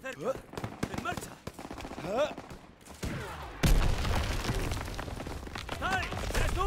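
Gunfire from the video game Call of Duty: WWII crackles in rapid bursts and volleys, quieter and scattered at first, then loud and dense, with voices shouting over the battle.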